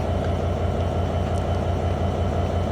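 An intercity train, the Ruposhi Bangla Express, halted at Muksudpur railway station in Gopalganj gives a steady, close, low mechanical rumble with a faint pulsing hum, continuous and alone.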